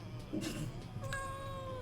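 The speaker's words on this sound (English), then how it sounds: "Itty bitty meow." A small cat gives a short, quiet meow, a thin rising-and-falling tone about a second long, heard close up in a calm indoor room with faint background noise.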